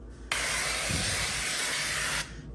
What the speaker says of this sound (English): I'm gonna spray a little bit of this spray at the bottom